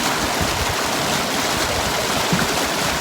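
Stream water on the Dartmoor moors near Nuns Cross Farm, rushing steadily and loudly up close as a broad continuous wash with no talking.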